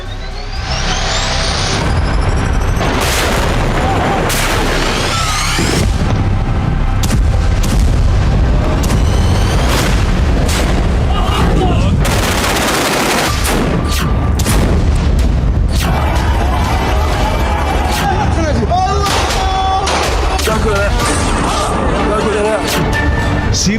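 Heavy explosions and artillery fire amid conflict in Syria: a dense series of loud, booming blasts and crashing impacts in irregular succession, continuous and close with little pause.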